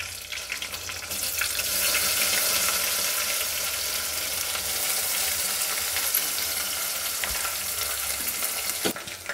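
Sliced onion frying in hot oil for Solapuri dalcha, a steady dense sizzle that swells after the first second and holds loud and even, with a couple of sharp spatula clicks near the end and no talking.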